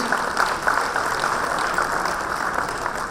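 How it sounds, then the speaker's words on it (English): Conference hall audience at the TiECon 2022 grand panel giving a warm round of applause to welcome the moderator, a dense, even wash of clapping that carries on steadily throughout. "please welcome with a warm round of applause"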